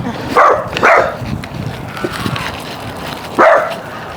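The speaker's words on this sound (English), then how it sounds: "Nicole, is that the dog, Daddy?" A dog out on a walk gives a few loud, close barks in short bursts, with quieter stretches between them and faint background noise.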